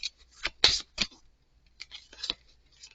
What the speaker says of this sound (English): So we're going to pull one of these nature cards here